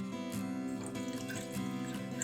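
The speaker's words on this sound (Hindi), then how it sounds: "यहाँ पे लिया हमने एक सॉस पैन, इसमें डालेंगे 2 कप पानी।" Two cups of cold tap water poured into a saucepan for Kashmiri pink tea, a steady splashing, gurgling pour with some clinks, close and continuous with no talking.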